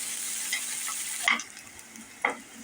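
Chopped onion and chili sizzling and frying in a pan, a steady hiss that drops off midway, with a couple of sharp scrapes of stirring.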